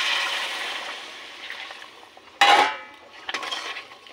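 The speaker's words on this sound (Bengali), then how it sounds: "এবার আমি দিয়ে দেবো গরম করে রাখা জল।" Pre-heated water poured into a cooking pot of fried-down peas for a cauliflower curry, giving a sudden loud hissing splash with a soft sizzle and light clatter of the pot. It stands out against a steady background hiss.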